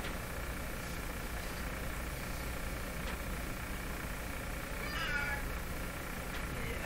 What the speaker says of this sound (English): keep crying there, cat.